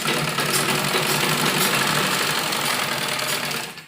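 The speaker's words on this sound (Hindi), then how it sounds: "तो उस तरीके से हम सिलाई करते हैं" A sewing machine stitches frock fabric, a close, steady mechanical whir running almost continuously before easing off at the end.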